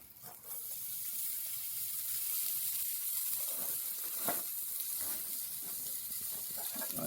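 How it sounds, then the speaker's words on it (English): Bacon sizzles on an outdoor grill while curried sausages are cooked, giving a steady close hiss and crackle with a few sharp pops and spits, and no voices are heard. "And I'll just throw this bacon on."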